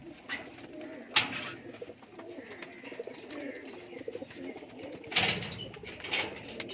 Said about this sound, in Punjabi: ਹਰਿਆ ਘਾਟਿਆਂ ਦੇ ਸਾਰੇ ਕਬੂਤਰ ਆ ਬਾਈ